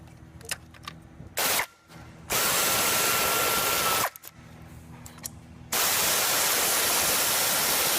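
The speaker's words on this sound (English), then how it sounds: "Now it's time to pull the intake plenum bolts off." A power tool whirs in long loud bursts while removing the intake plenum bolts on a Chrysler Town and Country, with two sustained runs separated by short pauses and a brief earlier spurt.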